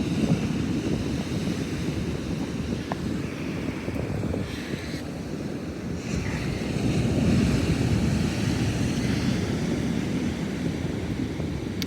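Surf rolls in along the Southern Oregon coast, a broad continuous roar of waves mixed with gusty wind buffeting the microphone, no voices present.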